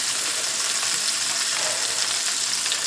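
Vegetables and onion go into a hot pot for a pot roast supper, giving a loud, steady, close sizzle and frying hiss throughout with no talk.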